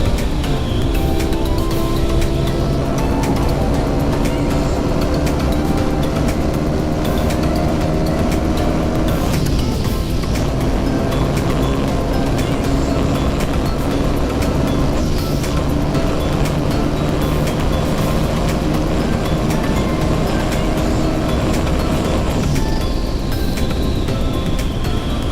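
A motorbike riding along a road for a 300 Feet bike race, its engine droning steadily and loudly with shifting pitch and wind rush the whole way, no talk.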